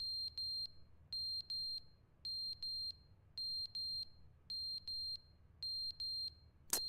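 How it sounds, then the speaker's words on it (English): Fire alarm in The Stanley Parable video game beeping in repeated bursts of three shrill, evenly spaced tones over a low hum, loud and alone, ending with a brief sharp click. "The fire alarm broke."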